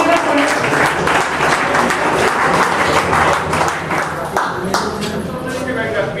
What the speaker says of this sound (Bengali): জোরে এবার করতালি হোক, জোরে এবার করে।